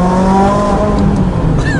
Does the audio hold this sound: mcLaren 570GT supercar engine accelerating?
yes